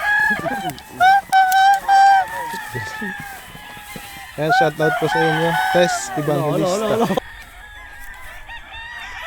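Chickens on a farm in Lipa City, Batangas, cluck and crow in several bursts while people talk over and around them, with loud overlapping calls near the middle before things quiet down.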